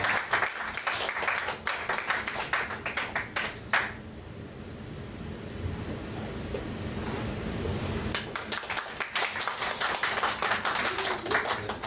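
A Korean church congregation claps in welcome, a dense burst of many hands that fades to a quieter stretch, then swells again into full, steady applause.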